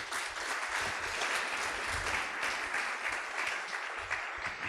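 A church congregation at a Pentecostal service applauds the Lord, a steady broadband wash of many hands clapping together, sustained at moderate loudness for the whole stretch with no voices over it.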